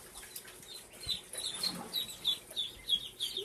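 Young ducklings chirp and peep in quick repeated high calls during their first bath, with faint splashing and wing flutters in between and no talk over them.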